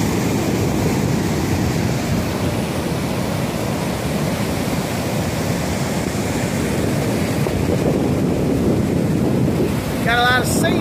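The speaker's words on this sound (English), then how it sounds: "Those waves are so rough and pretty. Coming up over the edges." Continuous roar of rough surf churning and crashing over a jetty, heavy wind buffeting the microphone throughout, with no break in the noise.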